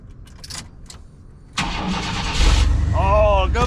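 An old pickup truck with a replaced lock cylinder cranks briefly and then catches, its engine roaring to life loudly and settling into a steady idle close to the microphone, with someone talking before and after.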